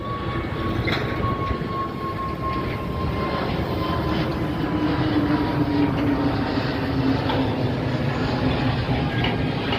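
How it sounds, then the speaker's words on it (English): A steady, loud roar of a large aircraft engine builds and holds, a continuous rumbling drone with no voices. "let's wait for taking off any plane"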